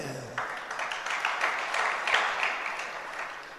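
An audience at a religious discourse breaks into steady clapping, a bright, dense patter that starts abruptly and holds at even loudness for a few seconds before easing off slightly.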